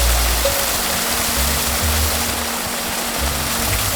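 Hot spring waterfall in Iceland, a loud, constant rushing roar of falling water close by, broad and unbroken through the whole stretch with no voices over it.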